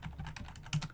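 Keys clatter on a computer keyboard in a quick, uneven burst of soft taps close by, with one firmer keystroke near the end.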